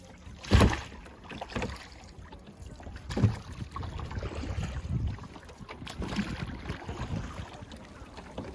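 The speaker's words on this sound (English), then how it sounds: "we're going to head now to get a boat and then row over to the island" A rowing boat out on Lake Bled, with soft oar strokes and water splashes recurring every few seconds over light wind, fairly close and quiet.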